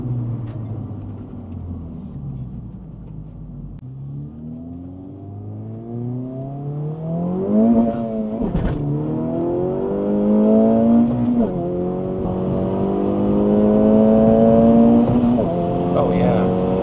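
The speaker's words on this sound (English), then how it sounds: "Let's go and take her for a quick test drive and test out the new shifter." A 2024 Acura Integra Type-S with an Acuity Stage 2 shift kit and Mugen MF10 wheels pulls away on a test drive, its engine rising through the revs in repeated accelerating pulls with gear changes, heard from inside the cabin, steady and fairly loud.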